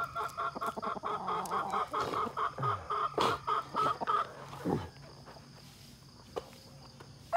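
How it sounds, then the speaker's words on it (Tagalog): A hen cackles repeatedly in a rapid, rhythmic series of clucks up close, tapering off into quieter background noise near the end. "pakakakak na naman yung isang ating inahin"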